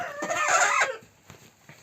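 An angry turkey hen guarding her eggs in a coop gives one loud, close, harsh call lasting under a second, followed by a few faint clucks.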